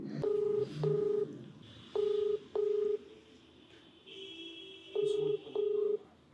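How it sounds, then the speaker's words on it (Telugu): Telephone keypad DTMF tones dialed to place a call, six short beeps in pairs with pauses between, fairly clear over a faint background hum. "ఒకసారి కాల్ చేద్దామండి"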